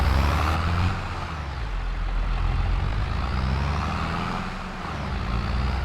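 A tractor engine in the Farming Simulator video game drones steadily with a heavy low-pitched rumble, loud and continuous with slight swells, no talking.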